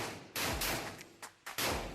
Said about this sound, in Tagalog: Yung last na putok.